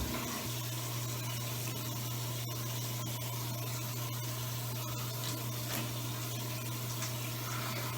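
Running tap water rinses off after a shave, a steady close hiss with a constant low hum underneath, lasting the whole stretch without talk.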